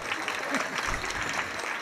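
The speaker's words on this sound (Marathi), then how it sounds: "वाजवा तुमच्यासाठी एकदा टाळ्या" Audience applause at a Shiv kirtan religious gathering, a steady wash of clapping from many hands that holds evenly throughout at moderate level.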